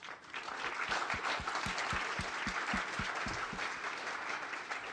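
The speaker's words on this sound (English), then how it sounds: "please join me with a big applause to our panelists" A conference audience at a health forum gives panelists a round of applause, dense clapping rising quickly and holding steady, with a few sharper individual claps standing out near the front.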